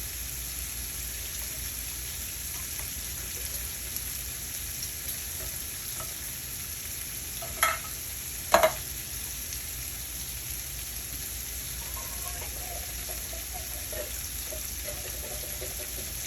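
Bacon frying in a pan on a stove burner gives a steady, faint, low-level sizzle with no voices, broken by a couple of brief sharper pops or clicks.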